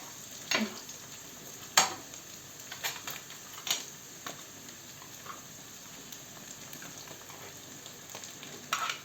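Cheese dumplings being gently stirred in a pot to keep them from sticking, with soft sizzling throughout and a few sharp scraping clicks and clatters of the utensil spaced irregularly, fairly quiet overall.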